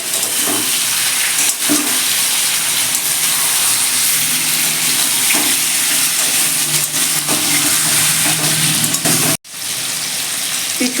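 A vegetarian curry of potato, pumpkin and pointed gourd cooks in a pan with a loud, steady sizzle and hiss, broken by occasional stirring knocks and a brief dropout near the end.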